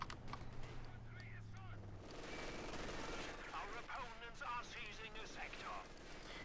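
Machine gun fire rattles in bursts from a Company of Heroes 2 battle, with the Wehrmacht fighting US forces. The bursts are faint and sit under steady commentary, mixed with scattered explosions and other battle noise.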